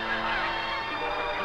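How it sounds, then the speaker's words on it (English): A goose held steady during banding gives loud, nasal honking calls close to the microphone, a brief continuous burst with no talk. "While I hold the goose steady, Carl slips a yellow band around his neck."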